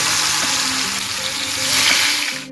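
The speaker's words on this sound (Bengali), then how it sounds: "এবার আমি আলু ভেজে নেব।" Potatoes fry in hot refined oil, giving a dense steady sizzle that stays loud and close throughout, with no voices.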